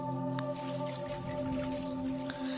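Thinly sliced potatoes are rinsed in water in a home kitchen, giving soft drips and sloshing with a few brief splashes, close by and fairly quiet.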